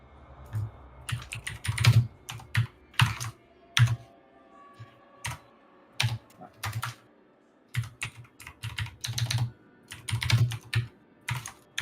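Quick bursts of clacking keystrokes on a loud mechanical keyboard, close and uneven in rhythm with short pauses between flurries.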